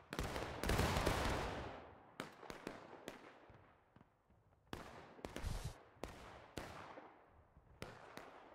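Musket volley fire in the video game War of Rights: a loud opening massed volley rolling for over a second, followed by scattered individual shots and smaller ragged volleys at varying distances, with echoing tails.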